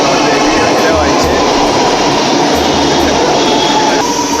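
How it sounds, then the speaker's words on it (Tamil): A metro train runs with a loud, steady rumble of wheels on rails, recorded from inside the carriage. A low droning hum continues throughout. "இப்போ நான் எங்கே இருக்கேன் பார்த்தீங்கன்னா மெட்ரோவில் தான் இருக்கேன்."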